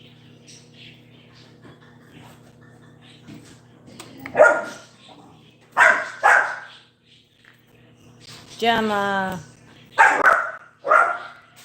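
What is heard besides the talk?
pit bull dog barking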